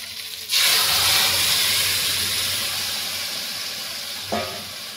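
Hot tadka poured onto boiled dal with potatoes erupts into a loud, sudden sizzle that hisses steadily and slowly fades, with a short splash-like burst near the end.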